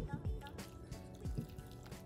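Milk is poured into a pot of cocoa powder and whipping cream for homemade hot chocolate, giving a quiet, close liquid splash and gurgle with a few soft dripping bursts.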